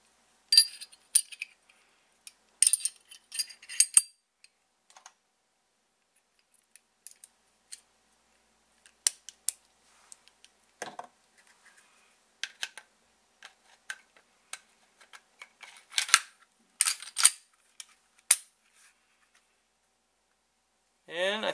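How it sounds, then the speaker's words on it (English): Glock 30 pistol slide and frame being put back together, heard as sparse, sharp metallic clicks and small clacks with long quiet gaps between them; no talking. "let's go ahead and put this Glock 30 back together and see how she looks"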